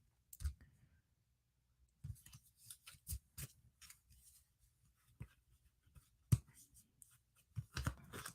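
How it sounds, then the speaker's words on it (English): Tarot cards are shuffled by hand in quiet bursts of crisp riffling and snapping clicks, separated by near-silent pauses, close and soft. "my shuffling techniques are horrible tonight, as you can tell"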